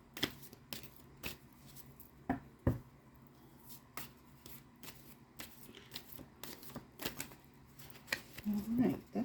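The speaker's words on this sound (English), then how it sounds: "I'm going to pull one final clue card." Tarot cards are shuffled and pulled at close range, with quick papery riffles and sharp flicks in irregular bursts, while a voice speaks softly at times.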